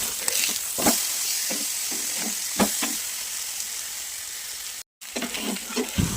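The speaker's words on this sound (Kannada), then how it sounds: "ಈಗ ಕಲಸಿಟ್ಟ ಮೀನನ್ನು ಫ್ರೈ ಮಾಡುವ" Marinated pomfret fish frying in a pan on a tawa, a steady close sizzle with occasional louder spits and a brief gap near the end.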